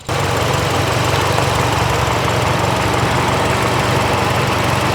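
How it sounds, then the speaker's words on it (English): A BMW car engine idles in a steady, loud, continuous rumble with a constant low throb and no change in pitch across the whole stretch, heard alone without any talk. "I'm gonna check what's wrong with this engine"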